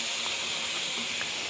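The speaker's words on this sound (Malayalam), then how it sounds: "ചൂടായ ചട്ടിയിലേക്ക് കുറച്ച് ചോറങ്ങിടുക" Cooked rice hitting a hot pan used for chicken, beef or fish curry, giving a steady, even sizzle that stays loud and unbroken throughout, with no talking.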